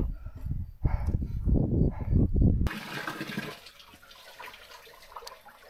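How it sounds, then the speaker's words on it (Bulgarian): Water gushes from an outdoor public fountain during a 60 km mountain trail race. A voice is heard first, then a steady, fairly loud broadband rush of pouring water fills the second half. "Много хубаво чешма."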